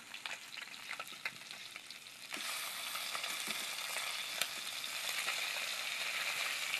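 A fish fries in a pan after being turned over, a steady crackling sizzle that grows louder and fuller partway through and keeps going with small pops.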